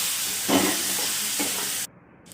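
Tomato frying with curry leaves in a pan, a steady close hissing sizzle with a couple of soft stirring bumps before it cuts off near the end.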